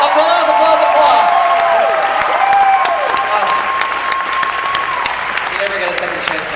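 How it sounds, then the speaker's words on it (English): A crowd at an anime convention masquerade applauds and cheers for a costumed contestant, with dense clapping and whoops filling the hall while an announcer's voice and music-like tones run underneath. "Applause, applause, applause."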